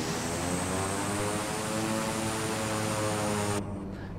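Beechcraft 350i turboprop taxiing in Flight Simulator 2020, with a steady, loud, droning engine and propeller roar that holds level for several seconds and then cuts abruptly near the end.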